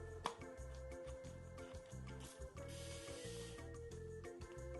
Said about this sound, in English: It sprays for a long time.